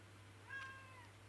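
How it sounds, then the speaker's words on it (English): A cat gives a single short, faint meow in a quiet room against a low steady hum. "Was that a little cat meow I just heard?"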